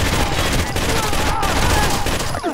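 Dense, continuous automatic gunfire from a Rainbow Six: Vegas firefight, sustained rapid bursts at full loudness with no pauses across the whole stretch.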